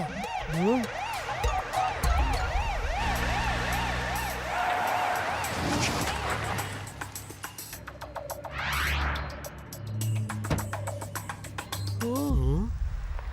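An ambulance siren wails in an animated kids' cartoon, with repeated rising-and-falling warbles over engine noise, fading midway and returning briefly at the end.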